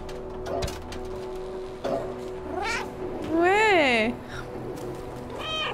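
Cats meow repeatedly in the video game Stray, with several rising and falling calls, one long drawn-out wail near the middle, and a person talking faintly in French beneath them.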